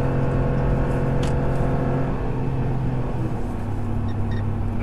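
A 2013 Ram 1500 HEMI pickup tows a load while its engine holds high revs near 5,200 RPM, giving a loud, sustained drone whose pitch eases slightly partway through.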